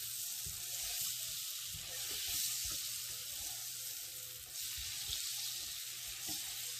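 Butter sizzles steadily in a hot pan, a constant close frying hiss with occasional stirring scrapes and no talking.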